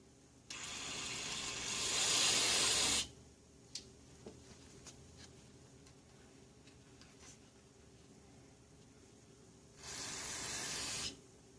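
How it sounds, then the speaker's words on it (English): Aerosol spray hissing into the fuel inlet of a Honda 2500-watt generator that had sat unused for over four years, two loud close bursts, the first about two and a half seconds long and the second shorter, separated by quiet. "Now let's spray in there."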